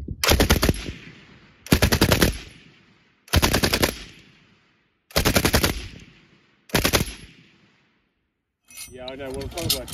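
A Vickers machine gun fires five loud bursts of rapid automatic fire, each about a second long with pauses between, ringing out close, followed by a softer rattling clatter.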